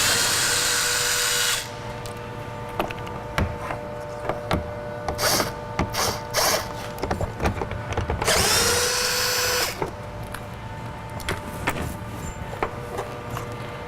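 A drill or power driver whirs in two loud bursts while removing a pair of 10 mm bolts from a front door panel assembly on a 2007–2013 GMC Sierra, with clicks and handling noises between the runs.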